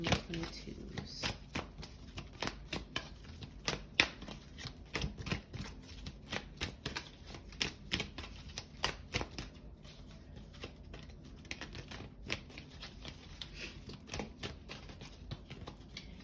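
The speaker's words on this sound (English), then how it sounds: "in case you're wondering why I'm just shuffling" Tarot cards shuffled over and over in a steady, crisp riffling flutter with sharp snaps, close and fairly quiet, continuing throughout.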